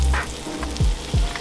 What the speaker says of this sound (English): Now that the octopus is tender, we'll start the frying process